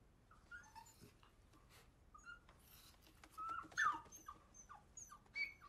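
A stressed, panicked dog after being burned by a lighter, giving faint high, wavering whimpers and whines with soft breathing, growing a little louder toward the end.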